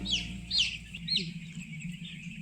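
Chicks on a poultry farm holding about 4,250 birds let out a few short high chirps over a constant low droning hum.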